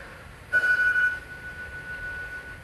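A phone rings once in a short electronic burst, a steady tone that cuts off after about half a second, heard indoors over quiet room noise.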